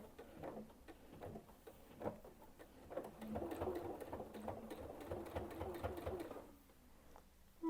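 A sewing machine stitches binding onto a quilt, running in a steady mechanical patter of rapid needle strokes for several seconds before slowing and stopping near the end, close and fairly quiet.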